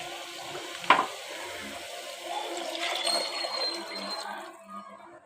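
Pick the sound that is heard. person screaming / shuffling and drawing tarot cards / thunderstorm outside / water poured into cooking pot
water poured into cooking pot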